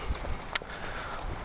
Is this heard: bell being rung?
no